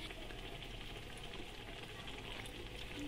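Adosha pitha, a Bengali sweet fried cake, sizzles steadily in hot oil, a soft continuous crackle and bubbling heard close but faint, with no voices.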